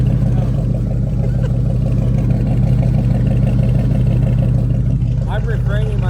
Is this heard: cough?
no